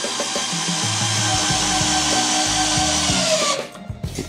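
A Black & Decker cordless battery drill running on its first speed setting, a loud, steady whirring grind with rhythmic strain, cutting off abruptly near the end.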